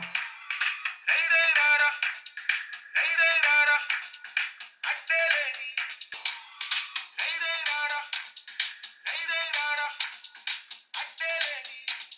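Music with a bright, thin tone plays from a smartphone's small stereo speakers, steady and fairly loud with brief pauses between phrases.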